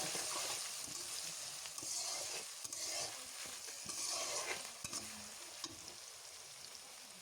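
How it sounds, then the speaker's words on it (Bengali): Onion paste with a little cumin frying in a pan, a continuous hissing sizzle with soft scattered taps and stirring sounds, fairly quiet and without talk. "লাল লাল করে ভেজে নেব"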